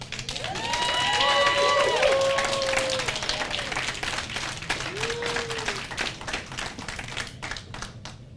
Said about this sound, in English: Can we get a round of applause for Tamar?